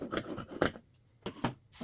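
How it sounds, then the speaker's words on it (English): Excess fabric is trimmed from the sides of a sewn bingo bag in a few quiet, rasping cuts, each short stroke close and faint. "I'm going to trim off the additional fabric on the sides."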